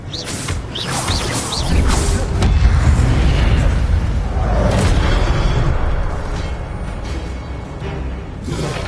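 An Expelliarmus spell is cast in Hogwarts Legacy amid a loud, rumbling battle mix of booming impacts, mechanical clatter and whooshing bursts that sustains throughout.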